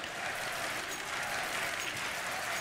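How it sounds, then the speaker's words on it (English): A loud, steady crowd roar fills a DreamHack Masters esports arena during a CS:GO semi-final between Ninjas in Pyjamas and GODSENT on Train, a continuous wash of cheering voices without pause. "There's a chant we haven't heard in a while"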